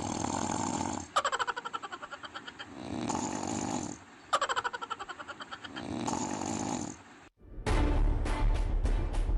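A school headmaster asleep during school hours snores loudly and up close, with a steady cycle of rattling inhaled snores and breathy exhales repeating about every three seconds.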